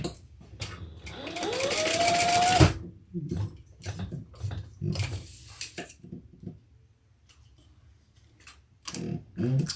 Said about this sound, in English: And we're going to baste that in place.